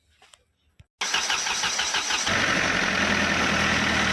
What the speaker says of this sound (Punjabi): ਇੱਕ ਵਾਰ ਸਟਾਰਟ ਕਰਿਓ ਵੀਰੇ ਸੈਲਫ ਮਾਰਕ ਸਟਾਰਟ ਕਰ ਦਿਓ